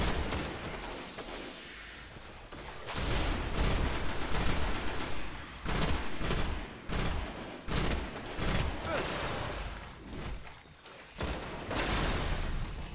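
Gunfire rattles in the video game Destiny: a rapid-firing weapon lets off repeated bursts and volleys across the whole stretch, loud and dense with short gaps between strings of shots, with other game effects mixed in.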